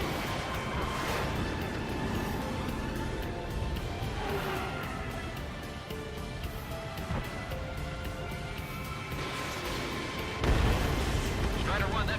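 Ace Combat 7 fighter jet combat with a roaring engine drone and repeated booming blasts as missiles fire and strike, loud and dense, with radio chatter underneath.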